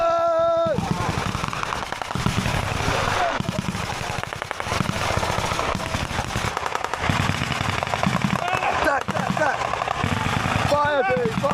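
Rapid bursts of video game gunfire crackle through a chaotic battle, with repeated automatic volleys and sharp shots layered over loud, overlapping voices of players talking.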